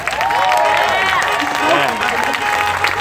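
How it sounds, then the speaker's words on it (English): An audience at a Bay Area rally in Oakland claps and cheers loudly throughout, with voices shouting over the steady applause. "let's just clap it up for Oakland real quick"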